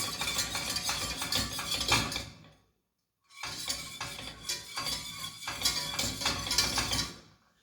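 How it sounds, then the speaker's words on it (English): Custard mix for a fruit trifle whisked by hand in a bowl, giving fast, close metallic clinking and scraping in two bursts separated by a brief silent gap. "If you've got a whisk, great. We'll just whisk it."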